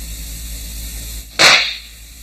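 A firecracker explosion slowed 1,200 times comes through as one drawn-out, hissing burst that swells sharply and fades over about a second against a low steady hum.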